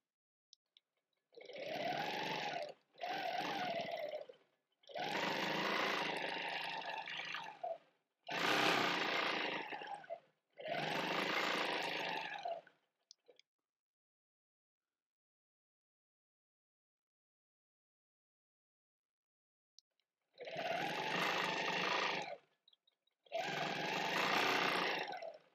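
A sewing machine stitches a linear quilt border, running in several steady bursts of a few seconds each with brief stops between, then a long silent pause before two more close, even runs.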